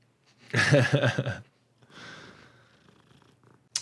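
A house cat purrs close by in a quiet room, a short rumbling burst followed by a softer, fainter second stretch of purring.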